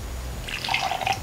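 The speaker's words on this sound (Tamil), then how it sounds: "இப்போ கொஞ்சமாக தண்ணி சேர்த்துக்கலாம்." Water is poured into batter in a grinder while making Enni mittai candy, giving a short burst of bright dripping and splashing that starts halfway through over a low hum, close and fairly soft.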